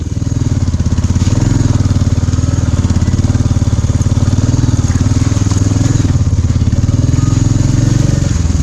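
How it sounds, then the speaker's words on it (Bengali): A motorcycle rides over snow and black ice on Sela Pass, its engine droning loud and steady throughout, with a throbbing low rumble and no break. "জীবনে প্রথম বরফের উপর দিয়ে বাইক চালাচ্ছি"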